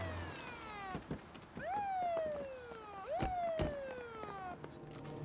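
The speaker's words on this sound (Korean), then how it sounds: "아파트 단지 내로 들어오는 경찰차 소리가 들려요." A police car siren wails as the car comes into an apartment complex, repeated rising-then-falling sweeps that sound fairly near, with a few sharp knocks between them.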